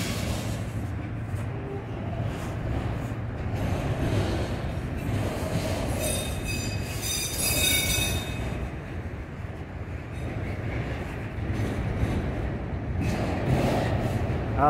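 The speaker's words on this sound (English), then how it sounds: "Oh, there's a train coming this way." Norfolk Southern train rolling past at night in a steady, loud rumble of railcars, with high metallic wheel squeals rising midway through and ongoing clatter underneath.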